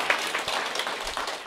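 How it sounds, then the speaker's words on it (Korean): An audience in a hall gives a short burst of warm, dense applause to welcome first-time guests at a company seminar. The clapping is steady and close throughout. "우리 이분들 잘 오셨다고 뜨거운 환영의 박수,"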